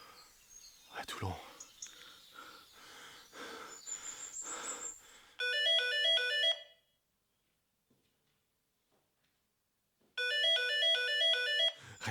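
Two bursts of a bright electronic ringtone, separated by several seconds of silence, follow breathy rustling and movement close by.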